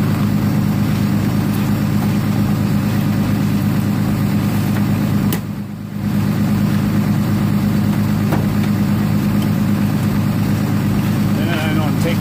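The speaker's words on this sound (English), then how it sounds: "going to take care of starting this car up at minus 7 degrees" A 1998 Chevrolet Malibu engine idles steadily after a cold start at minus 7 degrees, a low constant rumble, briefly dipping midway before settling back to the same even hum.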